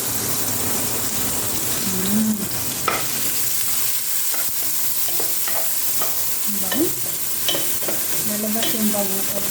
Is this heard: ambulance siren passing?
no